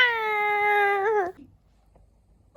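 A single long, drawn-out cat meow, loud and close, lasting over a second, followed by near silence.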